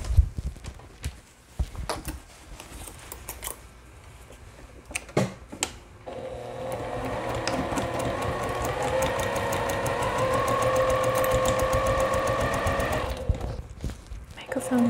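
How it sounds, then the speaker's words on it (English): A sewing machine stitches the bottom of a lined fanny pack, a steady close whir lasting several seconds after some handling clatter and talking, then stopping. "So now we're going to sew the bottom."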